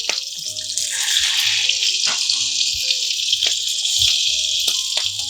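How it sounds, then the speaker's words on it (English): Salmon pieces laid skin side down in hot oil in a pan, giving a steady, loud crackling sizzle with spitting pops throughout, heard close with no talking. "always put the fish skin side down. So when you put the skin side down, it begins to sizzle."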